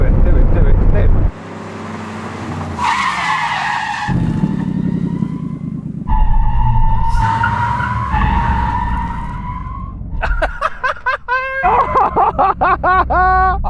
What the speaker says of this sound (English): that's where you just smash the brakes on and hope you live